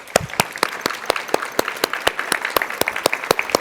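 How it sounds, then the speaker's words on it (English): Hearty applause from a sizable audience at a medical school white coat ceremony, a dense rhythm of close and distant claps that carries on steadily without talk. "giving them a hearty round of applause."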